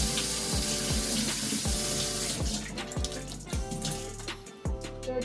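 Cold water runs from a kitchen tap as fish is rinsed in a sink, a loud, steady stream that turns broken and splashy as hands move through it.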